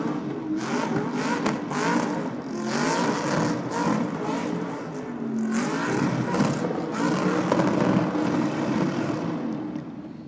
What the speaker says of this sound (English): Making full use of the burnout pad here at Sydney Dragway.